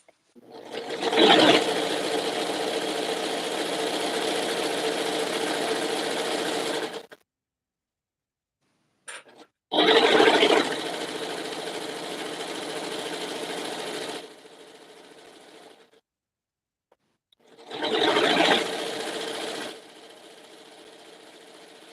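A serger sewing machine runs in three loud, steady bursts separated by short silences, each starting with a sharp surge before settling into a constant whir.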